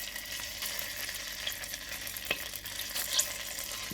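Tomato paste frying in vegetable oil in a saucepan for a beef and tripe gouagouassou sauce, giving a faint, steady sizzle with a few soft stirring clicks, heard alone and without voices.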